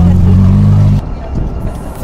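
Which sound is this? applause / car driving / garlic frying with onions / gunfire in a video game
car driving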